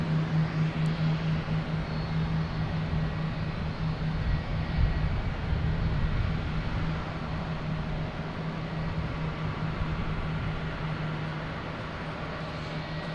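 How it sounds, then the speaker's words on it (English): Turkish Airlines airliner passes at Boston Logan Airport at night, a faint, distant steady rumble with a low hum and broadband wash, no voices. "I'll get Turkish Airlines passing in review here"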